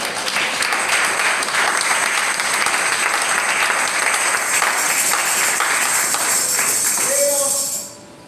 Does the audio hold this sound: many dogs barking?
no